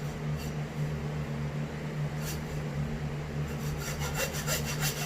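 A saw blade rasps steadily through a deer skull, cutting near the back corner of the eye socket to free velvet-covered antlers for mounting, close and continuous with a low hum underneath.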